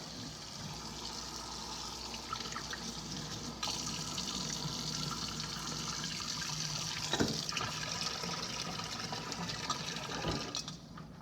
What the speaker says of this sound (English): When you feel the water running through all the way cold at the bottom